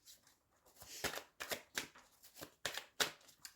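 Tarot cards shuffled in a run of crisp riffling bursts, about six distinct flurries with brief pauses between, close and fairly quiet.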